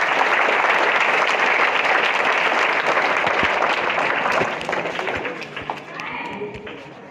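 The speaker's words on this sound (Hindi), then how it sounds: "सभी बच्चे तालियों के साथ केशव का स्वागत करें" Children clap to welcome a speaker in a school setting, a dense burst of applause that thins out into scattered claps near the end.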